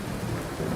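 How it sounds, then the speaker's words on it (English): Thunderstorm in the video game Fallout 4, a loud steady wash of heavy rain with a deep low rumble of thunder filling the whole moment, with no voices. "That storm is too loud."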